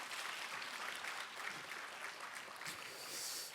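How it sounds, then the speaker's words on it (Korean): A church congregation at a Friday prayer meeting claps in sustained, even applause for a few seconds, dense and steady, heard from some distance. "다시 한 번 더 영광의 박수를 하나님께 드리겠습니다"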